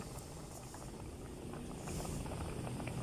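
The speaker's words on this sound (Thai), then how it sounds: "น้ำเดือดแล้วครับ" Water bubbles at a steady boil in a pot with fish head curry, a faint continuous burbling hiss with no voices.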